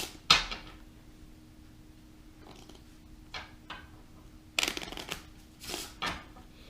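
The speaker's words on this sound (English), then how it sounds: "I'm going to shuffle them to make it even impossible to find a card" A deck of playing cards being shuffled during a card trick, heard as a few quick riffling bursts of card flutter separated by quieter pauses, close up with no talking.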